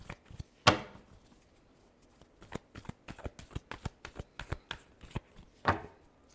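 A deck of tarot cards being shuffled by hand, a dense run of quick papery riffles and taps with two sharper snaps near the start and end, close and fairly quiet with no talking.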